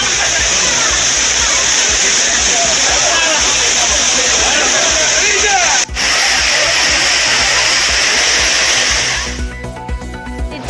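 The waterfall at Courtallam, with tourists bathing beneath it, gives a loud, steady rushing roar that fills the whole stretch before cutting off near the end.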